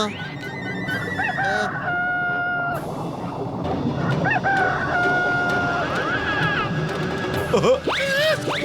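A cartoon rooster in the Motu Patlu cartoon, set in Octopus World, crows several times in bright, drawn-out calls that rise and fall, with short gaps between them and a busy, noisy background.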